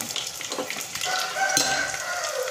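Fenugreek seeds and dry whole spices crackle and sizzle in hot oil with chilies for Punjabi kadhi, a dense close hiss with stirring clicks and a faint high whine in the background.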